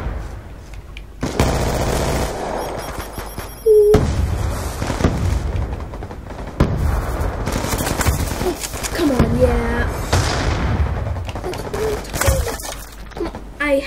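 Gunfire and explosions in the Call of Duty video game, with repeated loud shots and booming blasts over a busy mix of game sound, and a player talking in between.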